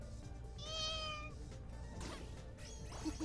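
A young kitten meows in a thin, drawn-out cry near the start, then a second, fainter mew later, over a steady low background hum.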